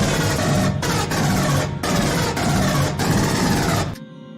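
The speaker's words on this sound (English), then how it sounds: "she is going to fire with the M56 smart gun" The M56 smart gun from Aliens fires as a sound effect: four sustained bursts of harsh, rattling automatic fire, separated by brief gaps, with a clean cutoff at the end.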